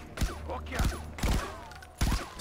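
Gunfire from a semi-automatic pistol in the video game Far Cry 4, several sharp bursts of shots spaced about a second apart, loud and close, with no talking.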